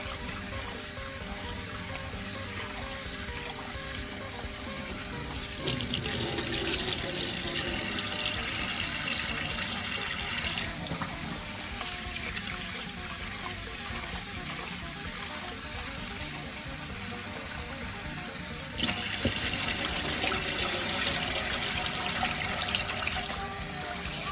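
Sushi rice being washed under a running tap, a steady close rush of water with louder surges where the stream strikes the rice and bowl, continuous with no speech.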